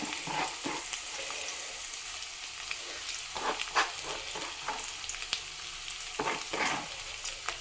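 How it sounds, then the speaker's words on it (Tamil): Chopped onions and 10 to 15 peeled garlic cloves sizzle steadily in a hot pan, with intermittent stirring scrapes and soft clicks over a continuous frying hiss, fairly quiet, no voices. "இது அப்படியே நல்லா வதக்க போகிறோம்."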